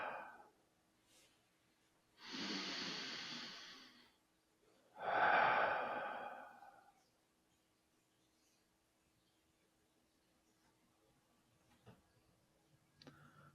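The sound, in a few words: deep breathing during a breathwork session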